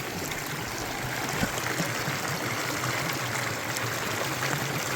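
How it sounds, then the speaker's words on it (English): Hot river water flowing steadily along a stretch of the Continental Divide Trail, a close, continuous broadband wash of stream noise at an even level with no voices. "This river is hot."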